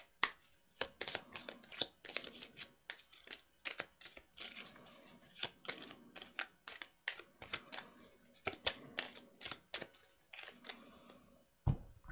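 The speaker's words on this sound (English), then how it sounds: "we need to shuffle this deck." A deck of cards is shuffled by hand during a tabletop game, giving close, quiet bursts of riffling and snapping clicks in an irregular run, with no talk over it.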